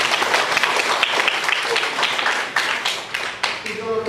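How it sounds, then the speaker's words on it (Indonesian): A classroom of students claps in appreciation of a classmate, a dense, steady patter of many hands lasting several seconds before tapering off, with a voice briefly rising at the end. "kita beri tepuk tangan buat dia dulu ya."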